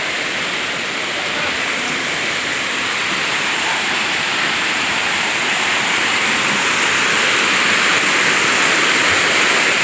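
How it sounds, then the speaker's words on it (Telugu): Sarugudu waterfall pours down in a steady, dense roar of rushing water that stays loud and unbroken throughout, with no voices over it. "పైనుండి వస్తుంది వాటర్"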